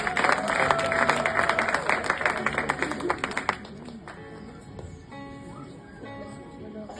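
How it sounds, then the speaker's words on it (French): A church congregation breaks into lively applause and cheers for the Lord, dense clapping that fades after a few seconds into a quieter murmuring room. "Est-ce qu'on peut acclamer pour le Seigneur?"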